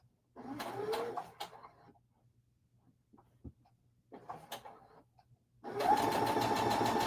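A sewing machine stitches a quilt block in short bursts separated by quiet pauses, ending in a longer steady run, close and clear with no talk.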